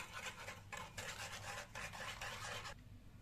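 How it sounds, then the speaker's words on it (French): Cream mixture with softened gelatin leaves and sugar is stirred in a pan for panna cotta, giving repeated scraping, rasping strokes in bursts, close and fairly loud, with pauses between passes and no talk. "Et vous mélangez."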